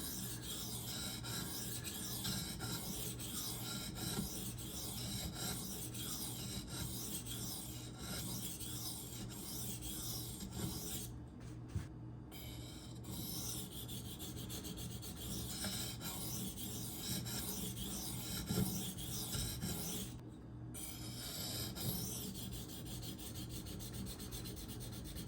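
Steady rasping strokes of an Esee Izula II 1095 carbon steel knife drawn across sharpening stones, working the belly and base, continuous and close with a low hum beneath.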